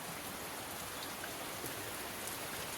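Steady rain falls with a dense, continuous hiss of drops, soft and unbroken throughout.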